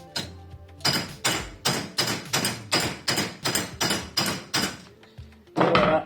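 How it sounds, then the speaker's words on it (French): A hammer strikes a wrench to knock the bearings out of a freestyle scooter wheel, giving about a dozen sharp, close metallic knocks in a fairly steady rhythm, followed by a brief clatter at the end. "je vais utiliser moi pour le coup une clé de 6 et un marteau et je vais faire un peu de bruit"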